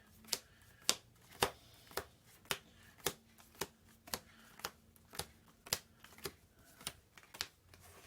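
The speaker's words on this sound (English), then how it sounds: "Shuffle the deck." Faint card-shuffling effect from the dungeon card game Iron Helm: a regular series of crisp, evenly spaced flicks about twice per second, quiet and with no talk over it.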